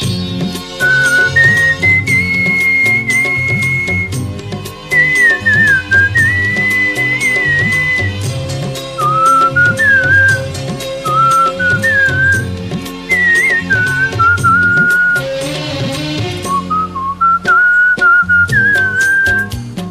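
Father and son from Koothattukulam in Ernakulam, Kerala whistle a clear, continuous melody in long phrases, loud and close over a steady instrumental backing track.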